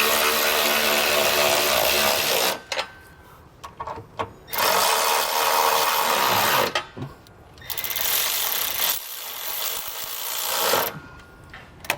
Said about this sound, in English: we're going to tighten these up with a 3/4 inch socket